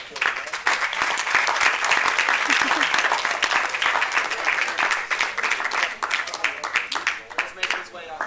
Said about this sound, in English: So we can give them another round of applause.